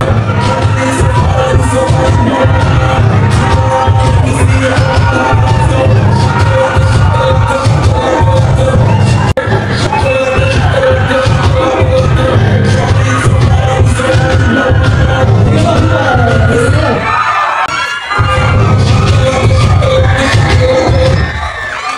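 A packed crowd at a 50th wedding anniversary celebration with a raffle roars with loud, continuous chatter, cheers and shouts, sustained without a break, with one brief dip near the end.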